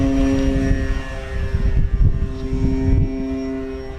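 An FMS Ranger 1800mm RC float plane flies nearby, its electric motor giving a loud, steady whine with a continuous drone that holds throughout, with no talking.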